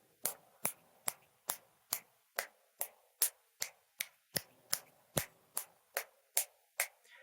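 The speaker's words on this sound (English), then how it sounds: "So if I were to just snap my fingers," Finger snaps captured by a Rode VideoMic Me smartphone microphone: about seventeen crisp, sharp snaps in a steady, evenly spaced rhythm, close and clear against a quiet background.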